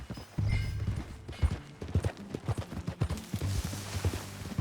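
Horse hooves in Red Dead Redemption 2 clip-clop in a steady trotting rhythm, fairly close, with a few louder hoof strikes standing out.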